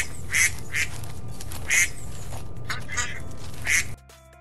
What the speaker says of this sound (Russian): Если вы позвоните по номеру 666, то вы услышите кряканье уток.